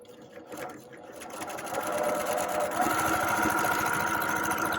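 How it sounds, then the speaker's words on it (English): A sewing machine runs close by while a quilt is sewn closed with a quarter-inch seam, starting softly and building to a fast, steady mechanical whir, with a voice talking over it. "on the machine, we're gonna go all the way around. We're gonna sew it closed"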